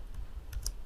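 Computer keyboard keys tapped a few times in quick, faint clicks over a low room hum.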